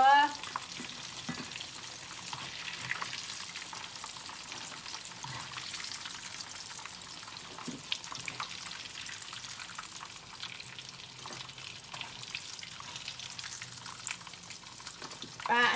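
Battered Swedish fish deep frying in oil makes a soft, steady bubbling sizzle throughout, fairly quiet, with scattered small pops and light stirring clicks.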